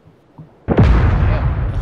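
A C4 charge detonates in the video game PUBG, a sudden heavy boom arriving after a moment of quiet and rolling into a long, loud, rumbling decay that fills the rest of the moment.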